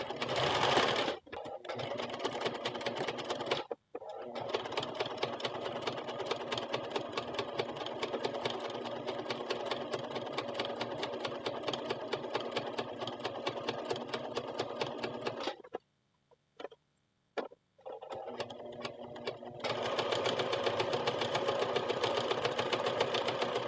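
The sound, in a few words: sewing machine stitching ribbon trim hem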